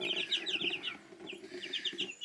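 Backyard chickens cluck and chirp close by in a morning coop, a busy overlapping chatter of short repeated calls in quick bursts with no talking.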